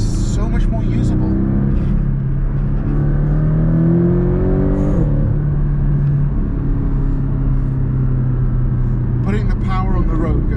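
A Porsche Panamera accelerating hard on the road, engine tone climbing through a gear change around the midpoint then settling into a steady drone, with talk inside the cabin over the engine.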